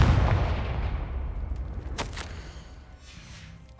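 A Confringo blasting spell in Hogwarts Legacy goes off as a deep, booming explosion at the start, its rumble decaying over a few seconds with a sharp crackle midway, with no talking.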